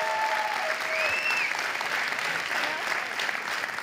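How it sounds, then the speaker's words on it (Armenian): A studio audience gives loud, dense applause for a guest named Tamin, holding steady for several seconds with a few faint whistles at the start. "Թամին մի հատ բարձր ծափ արեն"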